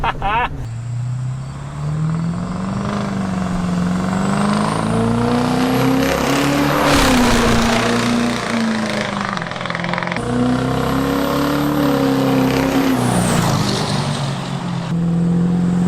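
A 700-horsepower Duramax truck cruises along, its engine droning steadily from inside the cab with pitch swelling and easing as it accelerates, a faint whine and hiss on top, and people talking over it.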